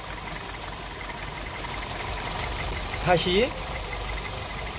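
A car engine idles roughly, shaking badly during a cylinder-4 test on a faulty engine: a steady, dense rumble and vibration with a brief voice partway through.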